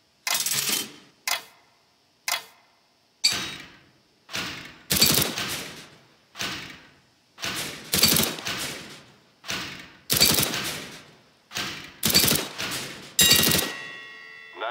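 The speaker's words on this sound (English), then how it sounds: "pick up the weapon and shoot 5 bad guys for me." Gunfire while shooting wooden terrorist targets in CS:GO training, a series of about a dozen sharp single shots spaced roughly a second apart, each with a short decaying tail, loud and close with no talk.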